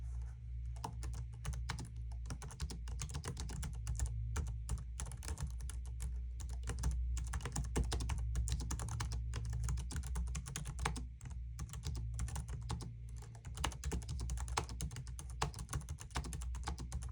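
Continuous brisk typing on an EWEADN K936 wireless keyboard, a dense, steady patter of close key clicks and thuds running unbroken from start to finish with no talking.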